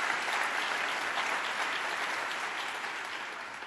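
An audience gives a sustained round of applause for a school's president and management at a Brooklyn state address, a broad wash of clapping that tapers slightly toward the end.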